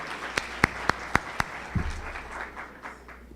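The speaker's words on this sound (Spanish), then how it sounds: "Recibamos a Gabriel Sanchezini con un fuerte aplauso de Argentina." At a CITTE 2016 conference, an audience welcomes a speaker with a handful of sharp, close claps in quick succession, which then fade into low room murmur and quiet.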